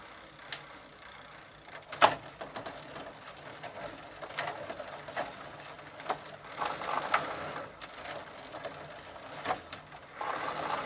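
A Sturmey Archer 3-speed bicycle hub turning in second gear on a bike with a loose chain and a worn drivetrain, giving faint, irregular mechanical clicking and ratcheting with occasional sharper ticks.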